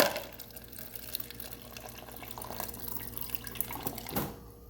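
Water runs from the door dispenser of a 2017 Maytag 25 cu. ft. French door bottom-freezer refrigerator, a steady close trickle and splash into a glass lasting a few seconds before stopping abruptly.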